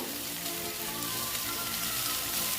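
Eggplant sizzling in oil in a pan for a Bengali fish curry, a steady, moderately quiet frying hiss with faint crackles and no voices.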